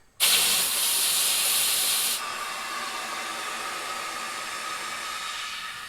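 Air rushing through a hose into the tube of a jeep tire: a sudden loud steady hiss that drops to a quieter, continuous hiss after about two seconds.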